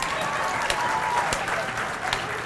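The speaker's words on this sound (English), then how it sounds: "Give her a big round of applause." An audience at an informational meeting gives a round of applause, a dense continuous patter of many hands clapping close by at an even level throughout.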